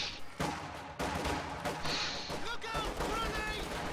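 Battle sounds in a strategy video game, with a dense stream of gunfire, a thud and sharp bursts that fit a grenade toss at sandbags. A voice talks over the fighting throughout.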